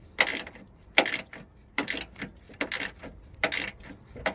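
A tight fastener on a Nissan Micra K12 headlight is worked loose, giving a series of faint, close ratcheting clicks in short bursts spaced roughly every half to one second.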